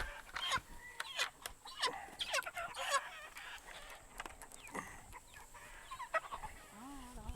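Cornish chickens in a chicken tractor on a farm cluck and squawk in scattered, overlapping bursts, close by and fairly loud.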